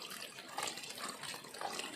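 Water sprays and spatters steadily from a backpack sprayer leaking past a homemade gasket while 3-in-1 pesticide is being applied, a continuous broadband hiss with small surges, fairly close.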